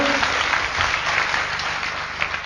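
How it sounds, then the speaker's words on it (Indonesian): Seminar audience applause: a dense, steady wash of clapping from many hands, filling the whole moment with no voice over it. "Mohon aplaus untuk Bapak Ruli Wahyudi."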